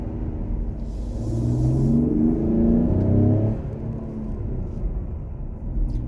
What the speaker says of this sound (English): you hear that whine in there from the sport mode?